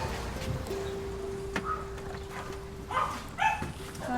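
Small dog yapping and whimpering indoors, a few short high yips and whines over a steady background hum, moderately close.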